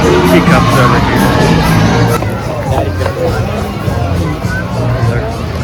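Crowd hubbub at Sesame Place amusement park on a gloomy spring day, a loud, dense wash of overlapping voices with children's shouts rising out of the babble.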